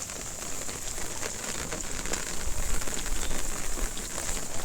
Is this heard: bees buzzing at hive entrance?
no